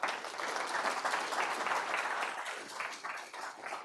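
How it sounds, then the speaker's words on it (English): Audience at a live business event gives a round of applause, a faint, fairly steady patter of many hands that swells and thins slightly over a few seconds. "Round of applause to all of them."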